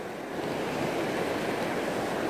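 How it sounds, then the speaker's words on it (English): A steady, fairly loud roar of a river rushing over rapids in Weardale, constant and unbroken throughout, with no voices. "the river is getting rapid further down"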